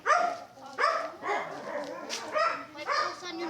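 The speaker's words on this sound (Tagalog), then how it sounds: "Ingay ng aso." A dog barks repeatedly along a village road in the evening, several sharp barks in an uneven rhythm, fairly close and loud, with no talking over it.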